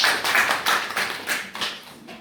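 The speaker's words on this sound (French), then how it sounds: "Je voudrais que vous applaudissiez pour lui." Applause from an audience at the official launch of regional technical education workshops, heard as short bursts of clapping that swell and fade in waves, fairly close and with no talking.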